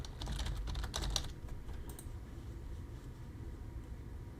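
A computer keyboard clatters in a quick burst of keystrokes while code is being typed, then falls quiet under a low background hum; no one speaks.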